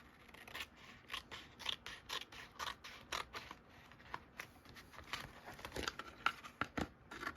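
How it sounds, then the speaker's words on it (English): Pages ripped out of a collage gluebook, heard up close as a quick series of short, crisp paper tears in an uneven rhythm, with no talking. "Try to rip pages out here."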